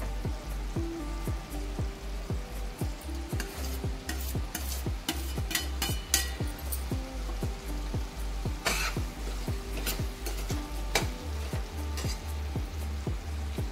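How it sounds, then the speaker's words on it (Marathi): Ridge gourd stir-fried in a pan with chana dal: a steady oil sizzle under rapid, rhythmic spatula scrapes and clacks against the pan, close and continuous, with no voices. "आता आपण यामध्ये शिराळं टाकणार आहोत."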